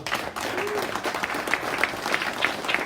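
Audience applause welcoming the owner of the venue at an event; continuous, fairly close clapping from a crowd, with a few sharper individual claps standing out and no speech over it.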